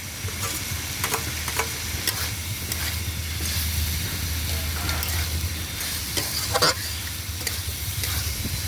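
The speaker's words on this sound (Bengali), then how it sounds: "চিংড়ি মাছটাকে দিয়ে দিলাম" Prawns frying in a pan with pumpkin and potato on an outdoor clay stove, a steady close sizzle with occasional stirring scrapes and clicks throughout, no talking.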